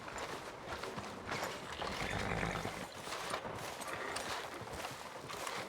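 Horse hooves clip-clop along a town street in Red Dead Redemption 2, a quiet steady rhythm of walking steps with faint background ambience.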